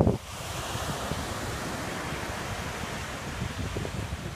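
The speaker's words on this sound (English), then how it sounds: "You can see the little swell coming in. Very little waves." Small, gentle waves wash steadily onto Sandy Beach in Acadia National Park on the Gulf of Maine, a continuous soft surf hiss mixed with wind noise on the microphone.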